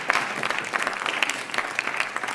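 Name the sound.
audience applause for Mr. Tooley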